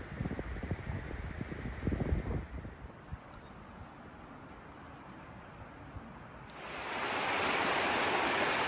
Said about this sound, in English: the upper portion of South Harper Creek Falls is right here. It's a pretty nice little cascade